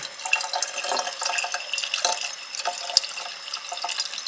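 Tap water runs steadily into a Berkey gravity water filter during setup and priming, a continuous splashing flow with small drips and clicks, close and alone.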